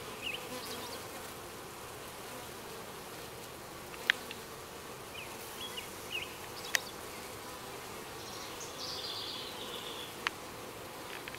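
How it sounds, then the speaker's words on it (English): Honeybees buzz steadily around a busy hive outdoors in late July, a continuous soft drone with a few brief sharper clicks and ticks scattered through it. "Bees are very active today."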